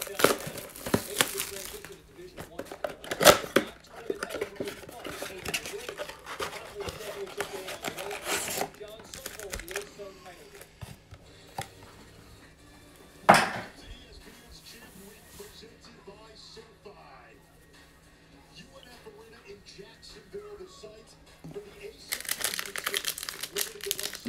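Panini Hoops basketball card blaster packs from 2021 being ripped open, with crinkling foil wrappers, tearing and occasional sharp rips close up, mixed with a person talking throughout.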